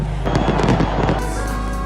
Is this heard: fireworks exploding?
yes